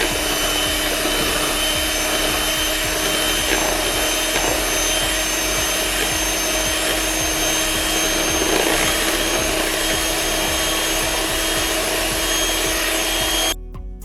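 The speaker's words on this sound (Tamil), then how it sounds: "ஒரு 5 நிமிஷம் நல்லா பீட் பண்ணுங்க" Sponge cake batter with butter being beaten for about five minutes, a steady unbroken whirring hum with scraping texture, loud and continuous throughout, cutting off abruptly at the end.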